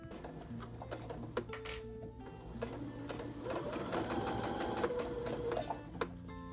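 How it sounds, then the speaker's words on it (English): A sewing machine stitches straight down a fabric seam in rapid mechanical bursts, stopping briefly and starting again, with a steady rattling stitch rhythm close by. "now I'm going to take it over to the sewing machine. I'm going to sew straight down that seam."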